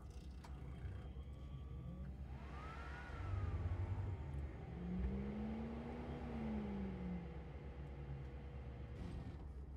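A car engine revs and accelerates while driving in Cyberpunk 2077, a low steady hum rising into a pitched whine and falling away, moderately loud over a constant background drone.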